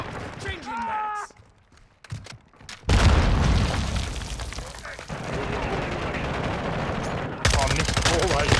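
Gunfire in a first-person shooter video game erupts in dense, loud automatic bursts and booms for several seconds after a short quieter stretch, with game voice callouts mixed in.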